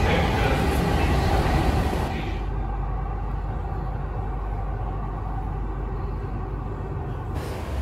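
A Delhi Metro train at Vaishali station, the first stop on the line, gives a steady loud rumble that settles after a brief hiss early on, with continuous running noise close by.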